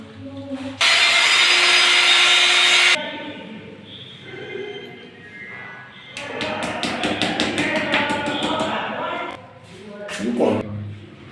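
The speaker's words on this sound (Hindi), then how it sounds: "अब हम इसको ड्रिल करेंगे।" Power drill boring into a wall to hang a marble vanity mirror, a loud continuous whine of about two seconds, then rapid tapping and scraping bursts with brief voices near the end.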